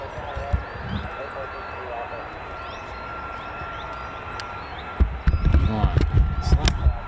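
A US Air Force F-15 or F-35 fighter jet landing at RAF Lakenheath makes a steady distant engine roar and whine, with louder rumbling noise and people talking nearby in the final seconds.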